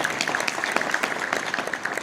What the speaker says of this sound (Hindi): अपने लिए ताली बजाइए।